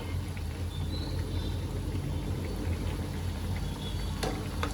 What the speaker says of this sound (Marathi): अल्टी पलटी मारून मी ह्यांना चांगलं तळून घेते